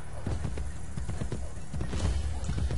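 Horse hooves clip-clop steadily through a street in Assassin's Creed Brotherhood, a close, continuous trotting rhythm with a faint snort and no talking over it.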